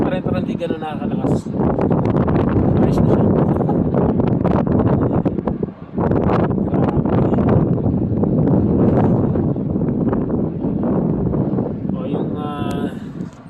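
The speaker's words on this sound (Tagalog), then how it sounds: "Hangin pa rin pero hindi ganun nakakalakas." Strong snowstorm gusts blast across the microphone in a loud, steady roar with a brief lull midway, while someone speaks throughout.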